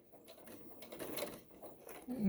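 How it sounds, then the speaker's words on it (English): A sewing machine stitches an elastic casing on pajama shorts near the fabric edge and then back stitches, a short close motor buzz that rises and dips in two bursts, with faint speech low behind it. "I'm just going to stitch this maybe a 1/2 inch in, just right on the edge. And it will back stitch."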